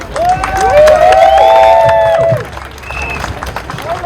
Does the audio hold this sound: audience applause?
yes